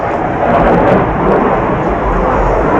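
A loud, steady airplane roar rumbles low and broad overhead at an outdoor live event, continuous throughout with no voices.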